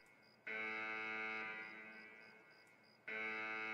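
Escape from Tarkov D2 extract alarm, a harsh buzzing electronic tone sounding in two long blasts with a gap between them, the first sustained and slowly fading, loud and alone.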